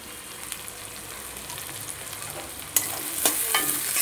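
Onion and slit green chilli frying in hot oil, a steady close sizzle with scraping stirs that grows louder and brighter partway through, no voices.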